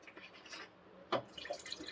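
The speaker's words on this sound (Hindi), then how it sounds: "थोड़ा सा पानी डाल के" A little water poured into dal gravy makes faint trickles and splashes, with a sharper splash in the middle and light liquid movement afterward.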